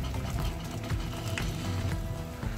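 Bambara groundnuts (voandzou) simmer in a pot, giving a steady bubbling, sizzling bed of sound with occasional soft clinks, close and moderately loud with no talk.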